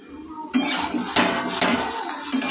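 Metal clatter as a lid goes onto a cooking pot of fish and potato curry, several sharp clanks and scrapes spread over a couple of seconds, close up with no speech.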